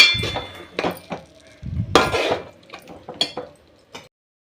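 A spoon scraping and knocking against a pan while chili powder is stirred into a fish curry, a run of irregular clinks and metallic taps, some loud and close, with brief pauses between strokes.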